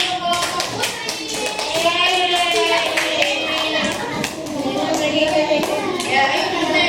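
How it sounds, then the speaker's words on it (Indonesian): Young pupils in a second-grade classroom give a round of clapping for the girls' group, sharp rhythmic claps repeating steadily while children's voices chatter and sing along over them. "beri tepuk tangan untuk kelompok putri"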